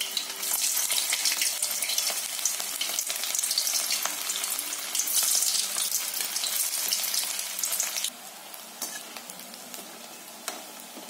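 Vegetable fritters deep-frying in hot oil in a kadai on medium heat, a continuous bright bubbling sizzle close up that steps down somewhat in the final seconds, no voices.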